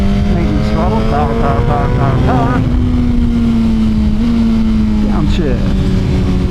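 A Suzuki GSXR 1000 motorcycle downshifts with a quick series of rev blips, then accelerates in a loud, close, rising engine drone over heavy wind noise, with a voice faintly underneath.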